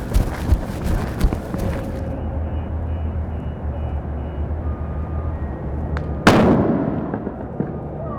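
An illegal firework explodes inside a car during a Detroit fire department safety demonstration: crackling pops lead into a sudden loud blast, followed by a lingering roar and hiss.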